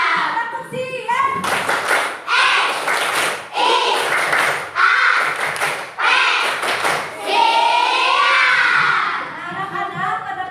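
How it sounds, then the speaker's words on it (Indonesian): Schoolchildren in a classroom perform a rhythmic clapping chant, bursts of unison claps and thumps alternating with their shouted, sung phrases in repeated patterned groups, lively and close, the voices rising and falling between clap sequences. "Tepuk siap."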